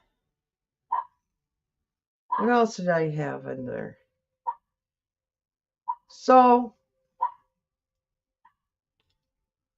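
A small dog named Matilda gives about four or five short, sharp barks spaced several seconds apart at moderate distance, with a person talking between them.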